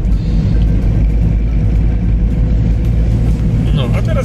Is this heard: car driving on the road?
yes